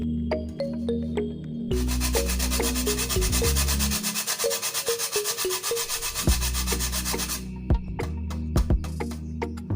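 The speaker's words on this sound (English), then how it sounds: "I'll be grating some nutmeg" Nutmeg is grated in quick, rhythmic rasping strokes, close and fairly loud for a few seconds. Tonal music plays underneath.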